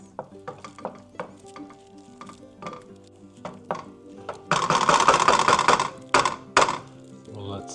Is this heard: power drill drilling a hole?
no